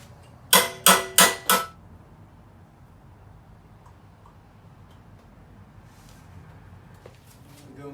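Four sharp metallic strikes in quick succession ring out close and loud as a bent metal part on a mini bike build is hammered back straight, followed by a quiet shop with faint scattered noises.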